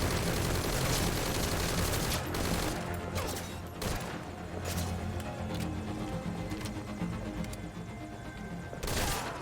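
FAL rifle fire in a video game comes as dense, rapid bursts of loud gunshots, strongest at the start and again near the end, with a slightly quieter stretch in between.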